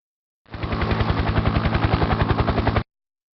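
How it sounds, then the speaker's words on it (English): A loud, close helicopter with rapid rhythmic rotor thumps pulsing steadily for over two seconds, then cutting off abruptly. "Helicopter."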